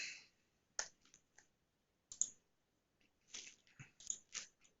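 Quiet, sparse computer keyboard typing: a few isolated sharp key clicks, then a short burst of quicker taps near the end, close and faint in an otherwise silent room.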